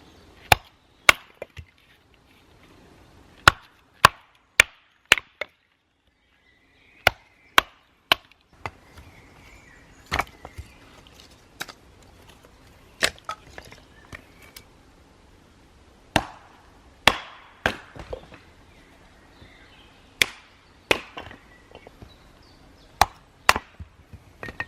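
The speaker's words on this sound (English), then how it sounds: "I'm going to go and collect some firewood and do all the wood prep" Firewood is chopped for a campfire outdoors, with about twenty sharp, woody strikes at irregular intervals, some in quick pairs and others separated by pauses, close and loud against a quiet background.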